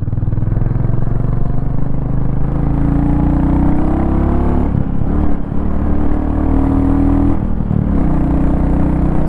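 A Royal Enfield Goan Classic 350 motorcycle rides steadily in third gear, its single-cylinder engine a loud, constant thumping drone with slight pitch shifts as the throttle varies.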